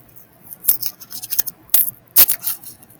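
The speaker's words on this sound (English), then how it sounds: "I rip down a little bit like this" Paper torn and peeled away by hand, heard as a few sharp, crackly rips and rustles spaced irregularly across a few seconds, close and fairly loud against quiet.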